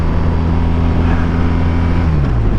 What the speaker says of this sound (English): We're just cruising around here